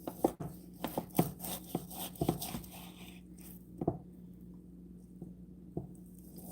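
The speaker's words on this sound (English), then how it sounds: "Since you have this at an angle, we'll cut this at an angle." A knife cuts beef into chunks for stew at an angle on a cutting board, producing a loose run of close, soft taps and scrapes that thin out into sparse single strokes.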